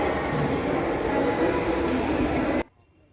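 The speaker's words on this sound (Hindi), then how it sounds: "दोस्तों यह मदुरई का रेलवे स्टेशन है।" Loud, steady rumble of a train at Madurai railway station in India, filling the scene before cutting off abruptly near the end.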